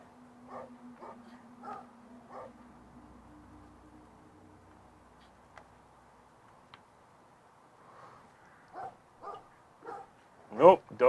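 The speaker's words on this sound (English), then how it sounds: "My doggy's just barked." A dog barks several times in short bursts during a video game session, with game audio and low tones between the barks, ending in a louder cluster of yips.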